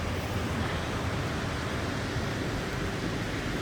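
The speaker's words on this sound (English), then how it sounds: "Look at the waterfall." Waterfall at a Muskoka cottage lake, a steady, broadband rushing roar that stays constant and fairly loud throughout with no talk.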